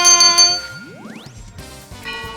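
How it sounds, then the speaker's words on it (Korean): A bright ringing chime sounds, followed by a rising sliding tone and a tinkling jingle, like a game-show bell effect, on a Korean stock-market TV show. "시작부터 골든벨이 울렸습니다"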